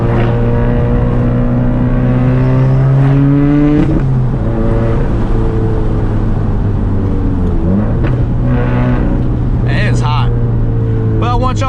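A built 400-horsepower Subaru engine drones and climbs in pitch as the car accelerates on the road, with a short shift partway through and a steady cabin rumble heard from inside.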